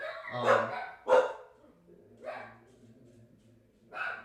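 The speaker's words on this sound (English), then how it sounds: "silly dogs." Dogs bark close by during an indoor quarantine recording session, giving four loud, uneven barks spaced about a second apart.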